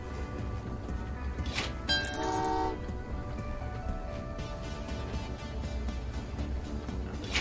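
A train in the Train Valley 2 puzzle game, on an Antarctica map, gives one short tooting horn blast over a steady bed of game music and ambience.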